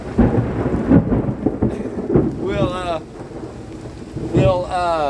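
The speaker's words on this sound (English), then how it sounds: "If even this much rain hitting it" Steady rain and thunder roll through a storm over a roof, with loud broadband rumbling and rain hiss throughout and someone talking over it.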